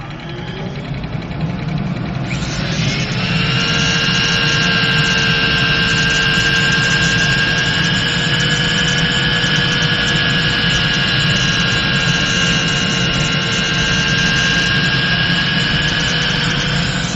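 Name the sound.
workshop dust collection system running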